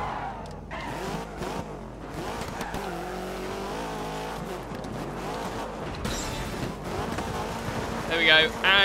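A rally car spinning donuts in the video game Dirt 3 revs and wails, its engine pitch rising and falling, with tire squeal and skidding under someone talking over it.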